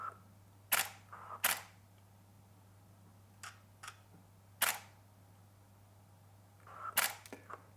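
A Canon DSLR fitted with a Canon 85mm f/1.4L IS lens fires its shutter in separate sharp clicks, about six spaced irregularly across a quiet room, each crisp and close with near silence between them.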